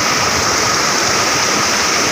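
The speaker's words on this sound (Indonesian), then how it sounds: "ini air terjun" A waterfall about 20 meters high in rural countryside pours steadily, a dense, unbroken roar of rushing water heard close and loud with no voices.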